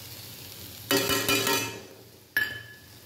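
Tamarind paste dropped into a hot pan for a bachelor-style chicken curry made without coconut bursts into a loud sizzle that fades. A second sharp hiss follows a moment later.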